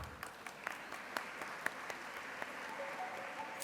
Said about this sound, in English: please give a big round of applause to Dr. Titi Sutiyut from the Faculty of Science